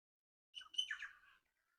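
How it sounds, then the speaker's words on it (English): A bird in a memorial park gives a brief burst of high, quick chirps, faint and isolated against near silence. "Do you like the birds that are here?"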